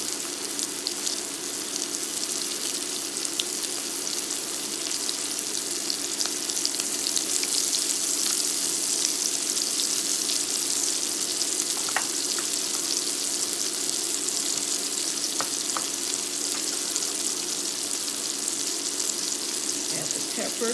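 Keto cheeseburger patties frying in a pan over medium-low heat give a steady, close sizzle and crackle throughout, with a few faint clicks and taps of utensils.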